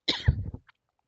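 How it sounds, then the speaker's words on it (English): A single short, throaty cough bursts out close by, followed by a faint breathy trail and then silence. "sorry, I got a cough"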